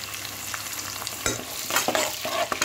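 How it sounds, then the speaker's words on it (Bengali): A paste of garlic, ginger and red chili fries in a pan for a catla fish curry, giving a lively sizzle with a few sharp stirring scrapes over a short stretch. "এই মশলাটাকে 2 থেকে 3 মিনিট আমি একটু ভাজা ভাজা করে নেব।"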